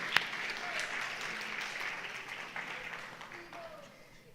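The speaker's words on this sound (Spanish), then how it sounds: "Un aplauso ahí a ese jovencito, muy amable." A church congregation claps for a young man, a moderate wash of applause that holds steady and slowly tapers off, with a few murmured voices underneath.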